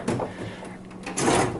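A drawer on a Harbor Freight U.S. General 72-inch rolling tool cart slides shut and locks, giving two quiet, short rattling knocks about a second apart, close to the microphone.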